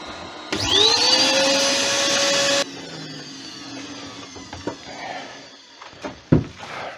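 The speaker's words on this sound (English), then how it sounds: "this extractor is kind of loud" A dust extractor starts up with a rising whine and roars for about two seconds, then shuts off, leaving a few scattered knocks and thumps.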